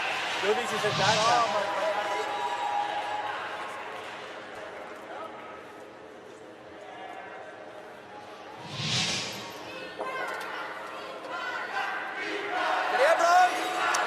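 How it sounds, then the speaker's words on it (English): Arena crowd at an Italy versus Norway mixed-team wheelchair curling match, cheering and shouting in swelling bursts that surge around the start and again near the middle, over steady murmuring spectators. "Crowd urging their team on."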